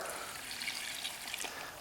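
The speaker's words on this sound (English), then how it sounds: "I'm adding about 2 cups of water" Water poured into a blender for a protein shake, a steady close trickle and splash lasting under two seconds with no talk.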